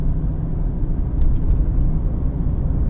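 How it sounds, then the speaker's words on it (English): A tired, rough Mercedes rolls down the road with a loud, steady low engine drone and road rumble filling the cabin, with a couple of faint ticks partway through and no talk. "while I'm driving this minging Mercedes"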